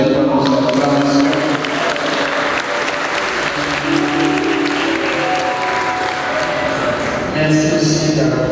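Congregation applauding the choir at a memorial mass in a church, a sustained wash of many hands clapping, loud and reverberant, with voices and some tonal sound running beneath it.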